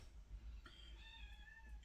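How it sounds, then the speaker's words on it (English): A cat meows in a drawn-out, rising and falling call against a steady low background hum, fairly quiet and close. "We've got a cat who's meowing"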